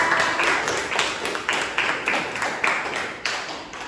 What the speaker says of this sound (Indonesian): Kasih tepuk tangan buat Rafael